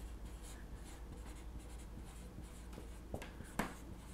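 Chalk or marker scratching across a board while a tangent-line equation is worked out in a maths revision lesson, a steady run of faint strokes with a couple of sharper taps near the end, no voice.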